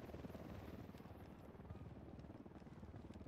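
A helicopter in Ghost Recon: Wildlands gives off a steady, dense rotor thrum with rapid blade chop, loud and continuous throughout.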